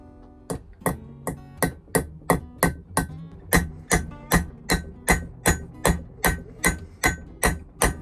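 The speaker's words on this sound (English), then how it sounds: "it's time to now hammer in the pins" Steady, evenly spaced metal hammer blows driving pins into an old axe head during restoration, around sixteen sharp ringing strikes in a regular rhythm, close and loud with no talking.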